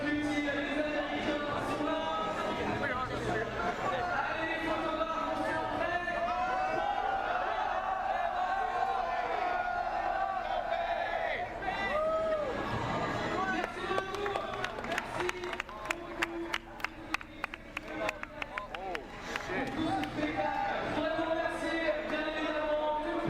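Large crowd at a Call of Duty esports event cheering and roaring continuously for about twenty seconds, with bursts of clapping near the end, under ongoing talk.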